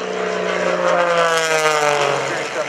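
A 12,000-horsepower Flashfire jet truck accelerates at an Air National Guard open house airshow in Rhode Island, giving off a loud, steady roar with a droning tonal whine that holds for the whole stretch.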